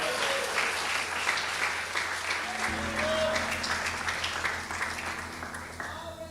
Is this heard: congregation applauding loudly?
yes